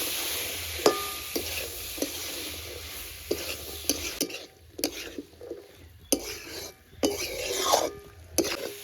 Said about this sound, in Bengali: এবার সবকিছু ভালো করে একসঙ্গে মিশিয়ে নেব।